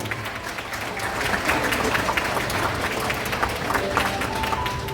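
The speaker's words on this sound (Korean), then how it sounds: "이런 박수 부탁드리겠습니다." Applause from wedding guests at a ceremony in a wedding hall, a moderate crowd clapping steadily while the groom kneels to give the ring, with faint background voices.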